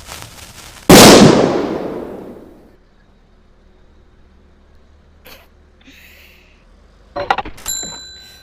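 A firecracker bursts inside a video game kitchen: one sudden loud bang at close range, followed by a long, fading crackle and hiss. Brief clattering comes later, with no one speaking.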